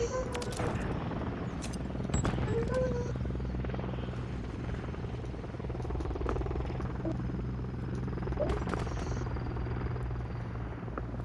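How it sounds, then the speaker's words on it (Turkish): Helicopter rotor thumping steadily throughout a Call of Duty match, loud and close, with scattered sharp gunfire cracks and brief game sound effects layered on top. "İkinci helikopter ha."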